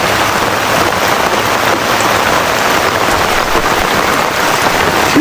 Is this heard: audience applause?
no